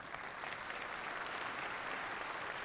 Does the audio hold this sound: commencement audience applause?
yes